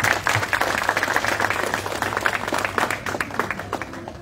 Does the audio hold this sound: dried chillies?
no